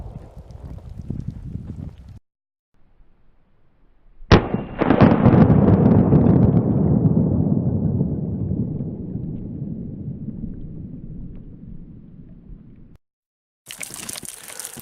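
A single sharp pistol shot from a Glock firing Hornady Critical Defense ammunition into a watermelon target cracks out loudly and trails into a long rumbling decay. Fainter outdoor noise is heard before and after the shot.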